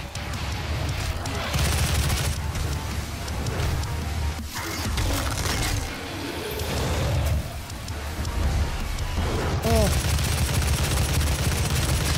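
Gunfire from a first-person shooter, Doom, with rapid dense shots and crashes packed into loud bursts, broken by short lulls and then resuming, while game sounds and voices run underneath.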